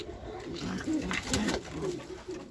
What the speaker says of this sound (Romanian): v-am adus și la porumbei de ornament